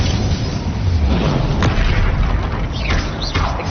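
A fire spell cast in Hogwarts Legacy erupts as a loud, dense, sustained whooshing blast, with a few sharper bursts near the end and no voice over it.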